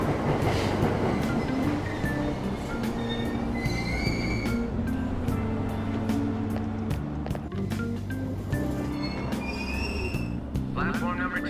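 A train in the video game Persona 5 Royal pulls away from a platform at a Tokyo-style station. Its wheels squeal and clatter steadily under a soft hum, with layered chimes, background music and a station announcement.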